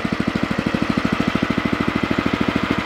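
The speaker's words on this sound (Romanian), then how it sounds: "Ăsta este relantiu. Merge frumos. Silențios, frumos." An O'Mac MC700 motor tiller engine idling nearby, a steady rapid chugging pulse of even, regular thumps, fairly loud and alone.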